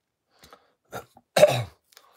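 A few soft throaty sounds lead into one harsh, raspy cough up close, in an otherwise quiet setting.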